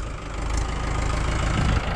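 A Mahindra 575 DI tractor engine idles nearby with a steady low knocking diesel chug, holding an even, moderately loud level throughout.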